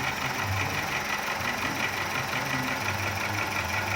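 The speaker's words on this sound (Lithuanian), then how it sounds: "variklis nebedreba, dirba lygiai" A Volkswagen Golf 1.4 petrol engine idles smoothly after a compression repair, a steady even hum with no misfire, close and constant with no talk.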